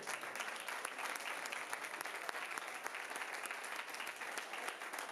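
An audience at an awards ceremony claps for a prize recipient, a steady, moderately distant applause with crisp individual claps that runs unbroken for about five seconds.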